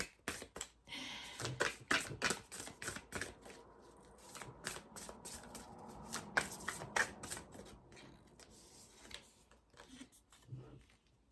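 An oracle card deck gets shuffled by hand in quick, crisp bursts of riffling and snapping cards, fairly close and quiet, with a few soft breaths and rustles between shuffles.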